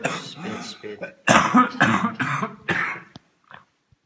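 A person coughing repeatedly during a breathwork session, a run of harsh, close coughs and throat clearing that fades into quieter breaths toward the end.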